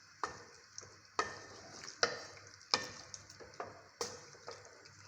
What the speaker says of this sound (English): And then I'm going to stir.